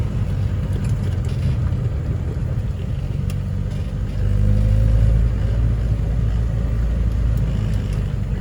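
A Rover P4 car drives along in second gear, a low, steady engine rumble heard from inside that swells louder partway through and then holds, with no talking.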